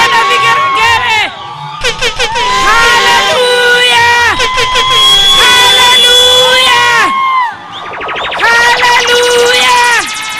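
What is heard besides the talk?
church congregation cheering and ululating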